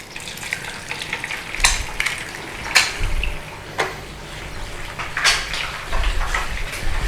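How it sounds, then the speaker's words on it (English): Eggs frying in oil in a pan for a full English breakfast: a loud, close, continuous crackling sizzle with sharp spits and pops scattered throughout, and no talking. "Now guys, eggs in and leave."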